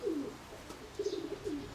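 Low, soft coos from a grey racing pigeon, a cooing call at the start and another rolling coo about a second later, fairly close with faint background hiss.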